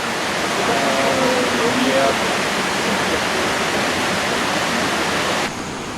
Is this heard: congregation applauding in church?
no